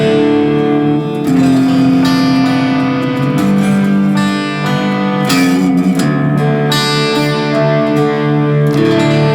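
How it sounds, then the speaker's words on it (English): A guitar played through the Amplitube X-Gear space echo pedal, tweaked, gives loud sustained chords and notes with trailing tape-style repeats that smear together, with no talking. "This is your space echo that I've tweaked."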